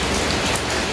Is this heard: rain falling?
yes